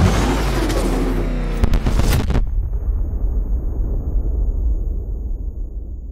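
A bomb detonating in Batman: Arkham Knight, a loud booming blast that cuts off sharply and leaves a low rumbling roar fading on for several seconds.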